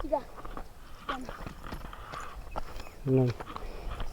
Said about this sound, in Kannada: ಇಲ್ಲಿ ಒಬ್ಬರು ದನ ಹೊಡ್ಕೊಂಬರ್ತಿದ್ದಾರೆ